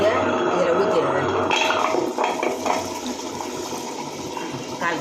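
Water is poured into a wet grinder holding soaked rice and urad dal for thayir vadai batter. A steady splashing, gushing stream runs under someone speaking Tamil.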